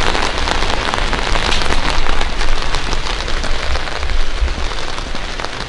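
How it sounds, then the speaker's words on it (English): Steady, dense rain pours down on a hard surface in Paris, a constant loud hiss of drops with no pauses and no voices. "It's raining here in Paris."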